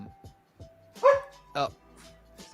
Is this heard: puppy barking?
yes